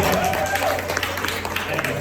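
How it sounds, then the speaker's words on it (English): Audience applause at a CEO Connect business event, a steady wash of many hands clapping with crowd noise, moderately loud and continuous throughout. "Yes, applause. That is applause."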